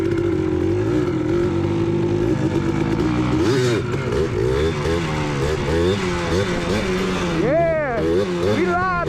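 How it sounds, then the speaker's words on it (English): Dirt bike engines rev hard outdoors, pit bikes and a 150 buzzing and climbing in pitch, with loud throttle surges near the end while people shout and talk over them. "We got the guys out here on the pit bikes, and then we got him on his"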